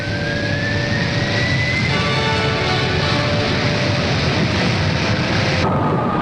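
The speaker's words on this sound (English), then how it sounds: "The Air Force's first supersonic jet fighter, capable of low-level flight faster than sound, hurtles into the sky." A loud, steady jet roar fills the air as an F-100 Super Sabre supersonic fighter takes off, with a thin whine climbing in pitch through the continuous rush of engine noise.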